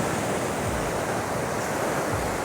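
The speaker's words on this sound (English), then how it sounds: "it will start getting affected by the water, by the waves" Storm-driven ocean waves wash onto an eroded beach, a steady, loud roar of surf with constant wind buffeting the microphone and no voices.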